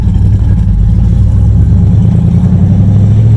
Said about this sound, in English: Trans doesn't sound exactly healthy. You can hear it clunking around all over there.